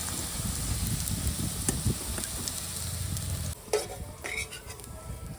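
Bitter gourd (kakarakaya) frying in oil with a steady, close sizzle that softens near the end, where a few light clinks and stirring scrapes come through.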